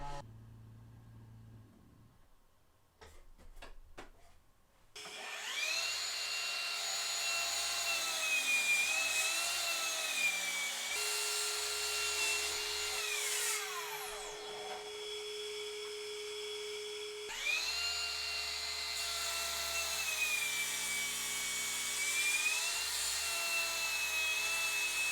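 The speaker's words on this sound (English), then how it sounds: "So I can get the miter saw set up and tilt it over to 15 degrees and cut the base" An oak workpiece being cut on a miter saw tilted to a 15-degree bevel: a loud, steady high-pitched motor whine with a cut in the middle, running for about twenty seconds after a few faint knocks at the start.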